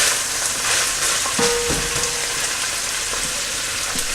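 Onion and celery sizzle loudly in a hot pan, a steady close-up crackling fry with a few brief scraping stirs and knocks partway through, no voices.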